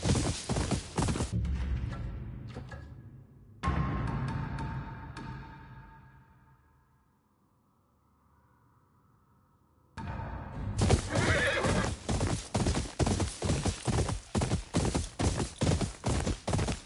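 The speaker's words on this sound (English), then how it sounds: "This horse isn't okay, mentally." Repeated horse whinnies with clip-clopping hooves in a video game, loud bursts that fade into a quiet lull, then resume with steady rhythmic hoofbeats.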